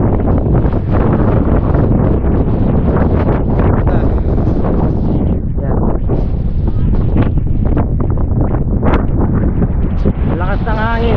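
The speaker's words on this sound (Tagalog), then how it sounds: "Lakas ng hangin, sobra." Strong wind roars without letup across an exposed coastal viewpoint on Catanduanes, buffeting the microphone in a dense, loud rumble from start to finish.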